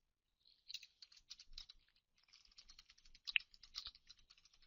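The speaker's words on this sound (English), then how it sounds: "Let's go ahead and type that in." Entries typed on a computer keyboard, a steady run of soft, quick key clicks in bursts with a short pause partway through, close and fairly quiet, with no one talking.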